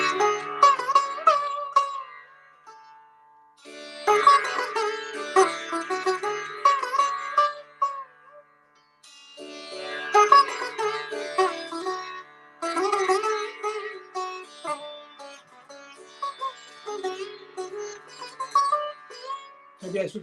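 Sitar played in a gat combining three playing styles, bright plucked strings in quick phrases with ringing sympathetic resonance, broken by short pauses between runs, heard alone and fairly close.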